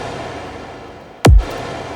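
A single hardstyle 909 kick punch hits once, loud and close, its pitch sweeping sharply downward into a deep boom, trailed by a reverb tail over a faint noisy background.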